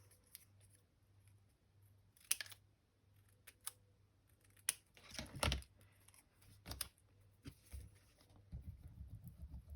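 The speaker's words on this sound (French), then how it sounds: "On coupe ici." Scissors or a blade cutting a small piece for the upper floor of a scale model, a few sharp close snips and clicks with soft handling noise between.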